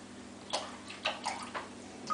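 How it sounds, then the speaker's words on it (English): A razor is rinsed in a bowl of water: four or five soft, separate sloshes and splashes close by, with quiet gaps between them. "I keep my bowl over there to rinse my razor in"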